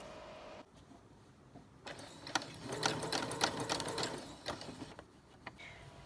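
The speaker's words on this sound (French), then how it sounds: "on va aller piquer au point droit en raccourcissant le point" Domestic sewing machine running a shortened straight stitch across viscose fabric, in bursts of rapid, close mechanical whirring with brief pauses between runs, no talk.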